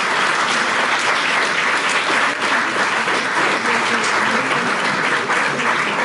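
An audience applauds steadily and densely throughout, a sustained wash of clapping from a crowd gathered at a speech at the Agence Bio.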